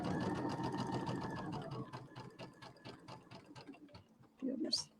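Sewing machine stitching a quilt square hums in a fast steady whir, then slows into irregular ticking stitches, close and quiet, with a brief clunk near the end.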